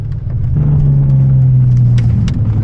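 A Chrysler 300 with no license plate drives past close by on a street, its engine a steady, loud rumbling drone with a rising tone as it goes by, no voices over it.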